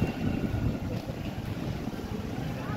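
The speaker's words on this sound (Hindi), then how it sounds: "कितनी ठंडी ठंडी और कितनी तेज़ हवा है" Strong cold wind roars continuously outdoors, buffeting the microphone with loud, low rumbling gusts and no talking.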